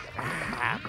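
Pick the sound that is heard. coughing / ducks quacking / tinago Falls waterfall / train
ducks quacking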